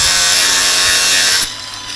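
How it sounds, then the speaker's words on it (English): An angle grinder cuts small pieces out of a fascia board, a loud, steady, high-pitched whine with a harsh grinding edge for about a second and a half before it drops away abruptly. "So use your angle grinder, take out those little bits so it's nice and crisp."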